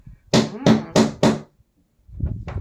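Four sharp, evenly spaced hammer blows knock flat pack drawer parts together indoors, each strike loud and ringing briefly, followed by a pause and then softer shuffling handling noise.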